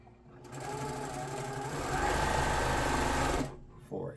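A sewing machine chain-piecing quilt fabric pieces runs steadily for about three seconds, loud and close, then stops abruptly, with a brief clatter afterward.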